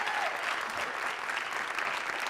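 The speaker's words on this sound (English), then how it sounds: "Another round of applause for all the award recipients." At an evening awards ceremony, the audience claps for the award recipients in an even, moderately loud burst of many hands, steady throughout the short stretch with no voices on top.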